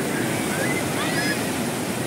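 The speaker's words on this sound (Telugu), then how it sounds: "అలలు ఎంత స్పీడ్ వస్తున్నాయి." Sea waves at Vizag beach make a steady, loud roar of surf mixed with wind rushing across the microphone, with no break in the noise.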